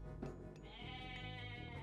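Goats bleating in Age of Mythology, a quiet, wavering animal cry with a short bleat near the start and a longer drawn-out one after it, alone and faint.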